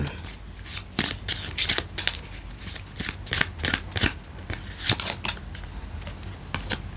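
Tarot message cards are shuffled by hand in a quiet room, giving a rapid, irregular series of crisp riffling snaps and soft slides at close range.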